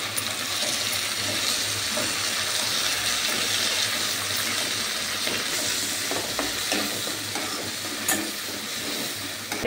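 Ginger, garlic and green chili paste fries in a pot alongside bay leaf for chicken biryani, a steady close sizzle with occasional stirring scrapes and no talk.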